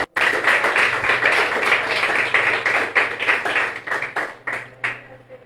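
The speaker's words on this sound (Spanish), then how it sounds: "Démosle un aplauso al Señor," A church congregation applauds, a dense burst of clapping that fills the space, then thins into scattered separate claps toward the end, with no one speaking over it.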